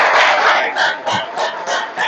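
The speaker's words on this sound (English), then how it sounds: "Big round of applause again for Abhishek sir." Audience applause and cheering for a teacher at a board exam revision class, a loud sustained crowd roar with rhythmic clapping bursts, no talk over it.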